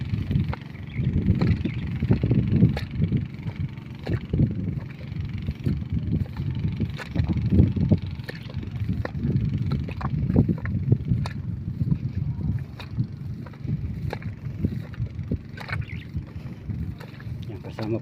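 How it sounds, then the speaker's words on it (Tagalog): Two engines running to pump irrigation water into a rice field, a steady low droning rumble with talk on top of it. "Dalawang makina po yan."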